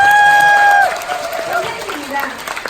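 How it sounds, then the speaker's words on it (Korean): An audience applauds at a Korean business seminar. Clapping swells into a broad, continuous patter after a voice and tonal sounds, then carries on at moderate loudness with occasional speech over it. "여러분 박수 한번 주십시오"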